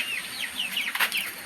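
Chickens cluck and squawk close by as they are fed, with a flurry of sharp calls and faint wing flapping.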